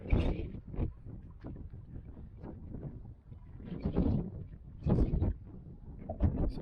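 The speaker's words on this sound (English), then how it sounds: "Super windy though." Strong wind buffets the microphone in loud, uneven gusts and rumbling bursts atop a museum in Albania, with no talking.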